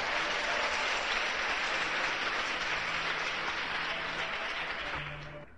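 Church congregation at a French-language sermon breaks into sustained, dense applause, a steady wash of clapping that holds evenly before tapering off at the end.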